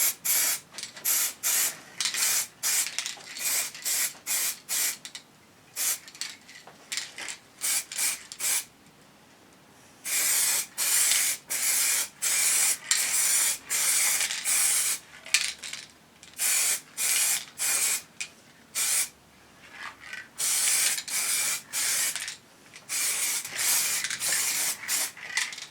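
Aerosol spray can laying heavy wet coats of paint on Triumph Scrambler motorcycle heat shields in a garage, as a long series of close, loud hissing bursts, some short and rapid, others sustained, separated by brief pauses.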